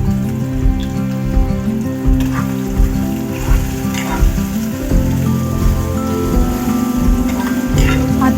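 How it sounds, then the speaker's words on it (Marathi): Capsicum sautéing in a pan for onion- and garlic-free pav bhaji, a steady close sizzle running throughout with occasional scrapes of stirring, no talk. "शिमला मिरची परतून घ्यायची थोडी नरम होऊ द्यायची"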